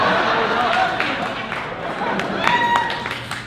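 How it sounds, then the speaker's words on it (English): Comedy club audience at a stand-up show claps steadily, a moderately loud crowd patter with some chatter and scattered individual claps standing out near the end. "Trance, you should not be clapping"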